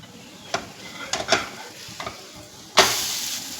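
Moong dal chilla frying in a hot pan, a soft steady sizzle punctuated by spatula scrapes and taps, then a loud flaring hiss as the pancake is flipped.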